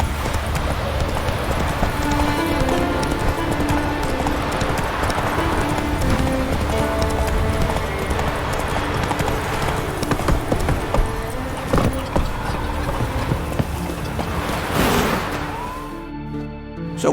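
Horse hooves clip-clop steadily at a gallop in The Witcher 3: Wild Hunt, a continuous rhythmic thudding beneath game music and ambience that drops away near the end.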